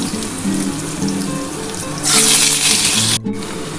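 Fried potato pieces tipped into hot oil with bay leaf and whole spices for a cauliflower-potato curry, bursting into a loud, steady hiss that cuts off sharply after about a second.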